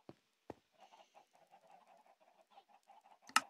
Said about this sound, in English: There's a chicken in your boat.